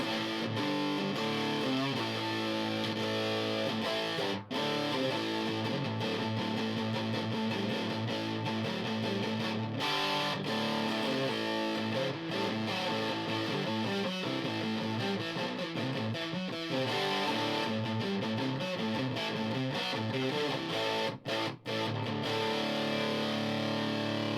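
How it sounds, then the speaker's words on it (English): A heavily distorted electric guitar plays continuously through an Electro-Harmonix/JHS Lizard Queen distortion pedal, thick and saturated with sustained chords and riffs, loud and alone without talking. "it's a nice sounding distortion pedal"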